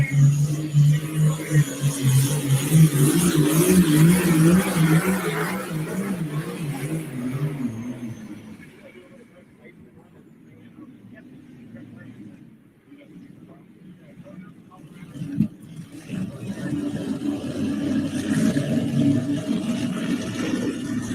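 John Deere pulling tractor engine roaring loudly at a tractor pull, easing off to a low rumble before building again, with an announcer talking over it.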